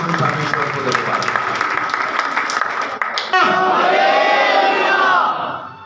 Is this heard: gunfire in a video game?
no